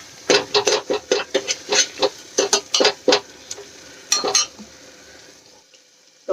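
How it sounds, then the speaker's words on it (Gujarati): Spices for stuffed onion curry sauté in a pan, with about a dozen rhythmic scraping, sizzling stirs close by, then a brief pause and a few final strokes. "તો 1 મિનિટ માટે આપણે મસાલાને સાંતળી લઈશું"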